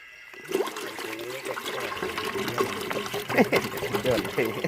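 A full bottle of liquid is poured into a cooking pan while garlic is fried for an herb-steamed rat dish. The rush of liquid runs steadily for several seconds, close and fairly loud, with voices talking over it.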